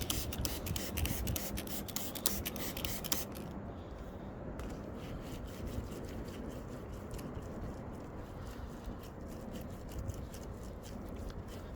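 Clay bar rubbed over car paint lubricated with rinseless wash, a close, continuous scratchy rubbing with rhythmic strokes, harsher at first and then smoother and quieter.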